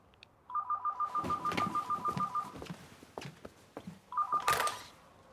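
A telephone rings in a hotel setting with a repeated electronic ringtone, a long run of rapid warbling pulses followed by a shorter burst after a pause, fairly close, with handling noises between the rings.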